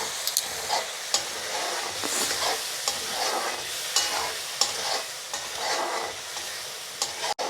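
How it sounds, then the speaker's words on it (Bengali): Spices and tomato paste sizzle in hot oil for a broiler chicken curry, with a steady frying hiss broken by repeated stirring scrapes and clatters of the spoon against the pan. "এখন আমি কিছুক্ষণ কষিয়ে নেব।"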